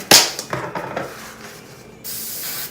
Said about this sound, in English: I spray them.